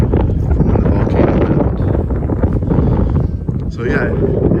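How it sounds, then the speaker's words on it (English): Strong wind on Mount Rainier roaring and buffeting the microphone in a loud, steady rumble, with a voice talking faintly beneath it. "It's very windy up here"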